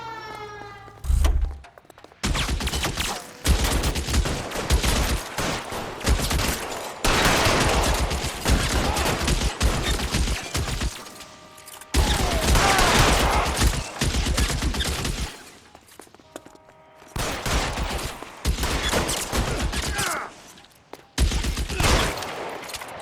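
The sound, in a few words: gunfire in the video game LA Noire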